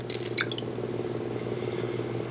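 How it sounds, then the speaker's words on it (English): A Samsung Galaxy S3 on Sprint plays its water-drop touch tone, a couple of bright droplet blips near the start over a steady low hum, close and faint. "when you're making selections, you get a nice little water drop sound"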